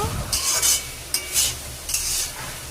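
Taro stolon curry being stirred in a pan: three scraping strokes of a spoon across the pan, close and fairly loud, over a low background hum.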